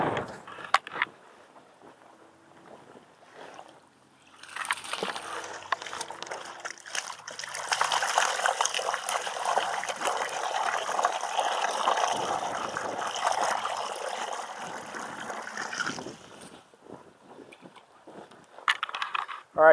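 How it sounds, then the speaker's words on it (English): Water gushes and trickles out of a pond filter in a steady, splashing stream that swells for several seconds and then fades, with no talking. "it's still pumping out dirty water here with the filtration that's in there"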